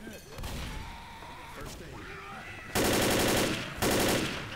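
Gunfire in the co-op zombie shooter Left 4 Dead: Blood Harvest: two loud bursts of automatic fire arrive late, following a stretch of players talking over quieter game sounds.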